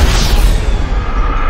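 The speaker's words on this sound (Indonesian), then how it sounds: "Meledak." A vehicle explosion in the video game GTA 5 erupts as a loud, broad burst with a whooshing rush, then fades into a rumbling tail, with no voices over it.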